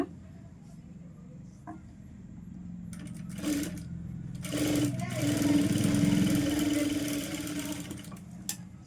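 A sewing machine whirs while stitching a kids' lehenga blouse, a moderate mechanical hum rising and falling in short runs, with someone talking alongside.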